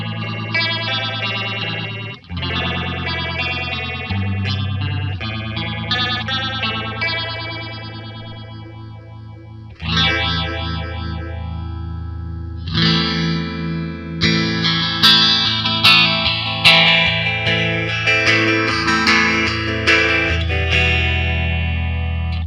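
Electric guitar played through a PastFx rotary phaser pedal, an EHX clone, giving a swirling Leslie-like sweep; loud, sustained chords and picked notes with slow phasing movement, no talking.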